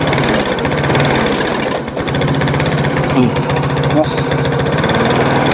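Small engine running roughly with a clogged fuel supply, a rapid rattling putter that sags and stumbles, close and loud, with a voice talking over it.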